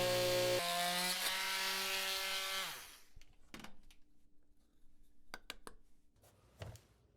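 An oscillating saw notches a flooring plank laid over concrete during a game bar renovation: a steady, close buzzing whine for about three seconds that cuts off, followed by scattered light taps and knocks.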